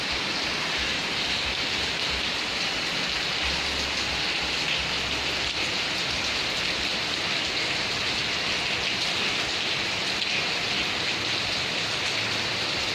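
Steady rain pouring down in a rainy season street, a dense even patter on surfaces with a low rumble underneath, continuous and fairly close, with no voices.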